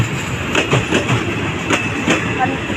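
Thai passenger train 445, hauled by GEA class locomotive 4538, rolling slowly into Surat Thani station, with steady rumbling and rhythmic clicking of wheels over rail joints close by, plus faint voices in the background.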